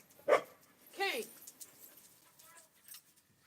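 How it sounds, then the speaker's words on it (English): A dog barks in a yard: two sharp, close barks near the start followed by softer yips and whimpers, fairly quiet overall. "He barks at everybody that's out here."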